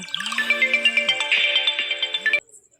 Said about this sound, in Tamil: எங்கள் அக்கா ஃபோன் அடிச்சிட்டா